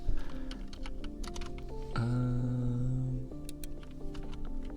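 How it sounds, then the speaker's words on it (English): Typing on a computer keyboard set far back on a cluttered desk during an ASMR stream, a run of quick light clicks and taps under a sustained low tonal hum. "it's so hard typing when I do these streams because like my wires are everywhere and my keyboard is like in the back"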